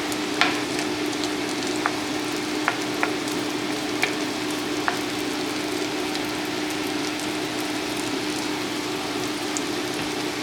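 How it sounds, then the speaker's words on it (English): Chicken fries in a hot pan with a steady, moderate sizzle, like light rain, broken by a few sharp pops and clicks in the first half. No voices. "Let them fry for a little minute."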